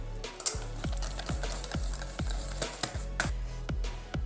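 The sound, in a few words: whisking vanilla extract into cupcake batter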